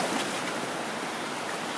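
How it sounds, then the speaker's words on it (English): Ocean waves wash steadily onto a beach, a broad continuous rushing roar with no clear breaks. "The waves are nice though."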